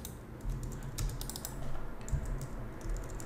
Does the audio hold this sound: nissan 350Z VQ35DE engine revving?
no